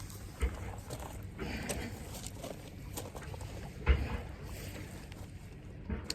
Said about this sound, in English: Sorry that land moving machine's so loud,